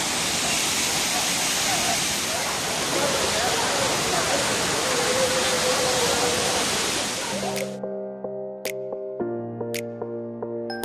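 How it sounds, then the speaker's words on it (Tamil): Courtallam falls roars as a loud, steady wash of crashing water for about seven seconds with a crowd nearby. The roar then gives way abruptly to music. "அதனாலேயோ என்னமோ இப்போ நிறையாவே தண்ணி விழுந்துச்சு"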